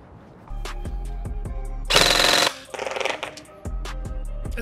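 A G&G BAMF Team Cobalt Kinetics M4 airsoft gun fires two short full-auto bursts of rapid mechanical clatter, loud and close, over a steady ticking rhythm in the background.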